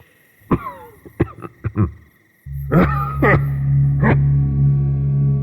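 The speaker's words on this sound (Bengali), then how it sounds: "বসার ঘরের দিক থেকে একটা স্পষ্ট কাশির আওয়াজ আসছে। শুনে মনে হচ্ছে যেন কোনো বৃদ্ধ লোক বারবার কেশে উঠছে।" An elderly man coughs repeatedly in a radio horror drama: a close, sharp run of separate coughs, then a few heavier coughs over a low, steady drone.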